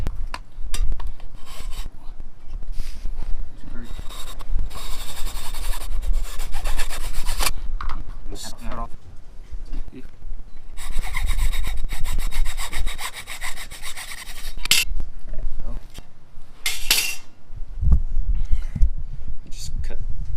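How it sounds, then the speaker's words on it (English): A fine-toothed hand saw cuts plastic breather fittings off the stock air filter of a 2020 Harley-Davidson Iron 1200 Sportster, giving steady rasping back-and-forth strokes in close bursts with short pauses between them. "what I'm going to do next is actually cut these off the air filter"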